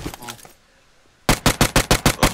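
Rapid automatic SMG fire in the PUBG video game, a fast, loud, evenly spaced burst of about ten shots that follows brief talk and a short quiet pause.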